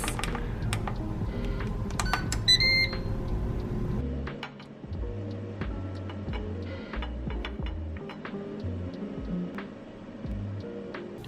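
An air fryer is set to 400 degrees for eight minutes, giving a few short electronic beeps early on, then a steady low hum and whir as it runs, with faint clicks throughout.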